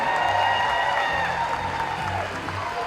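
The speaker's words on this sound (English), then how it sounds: "One more round of applause for everything happening this evening." Audience applause at the Morning Pointe Seniors Got Talent show in Chattanooga, a steady, fairly loud wash of clapping that holds throughout with sustained musical tones running beneath it.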